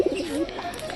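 Pigeons coo close by in a backyard coop, a short soft rolling warble with a faint higher chirp at the end.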